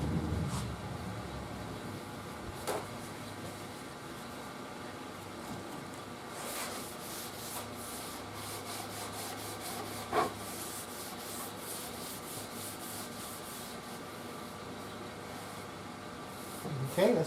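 Finish is stripped from a Crosley 6 radio's wooden cabinet, a steady close rubbing and scraping that runs continuously with a few louder knocks, no talk.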